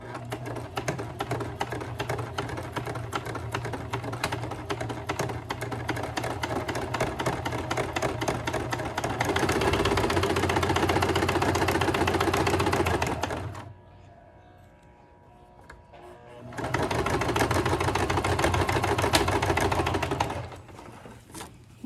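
A sewing machine stitches a fabric face mask, running in long steady bursts of rapid, loud mechanical chatter with a brief pause before it resumes.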